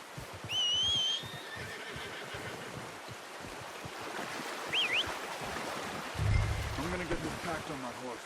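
A horse in the video game Red Dead Redemption 2 lets out a high, wavering whinny early on, faint against outdoor ambience with brief low thumps later and a short chirp in the middle.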